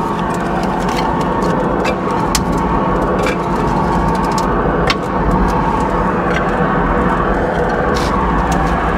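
A wood stove's first fire of the season in -40 cold roars steadily with a deep, loud, jet-like rumble, punctuated by small crackles and pops throughout.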